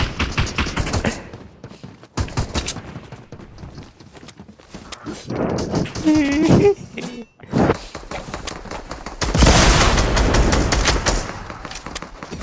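Shotgun shots in the video game Fortnite, sharp loud blasts scattered among rapid gunfire bursts and in-game effects, with pauses between volleys and brief voices.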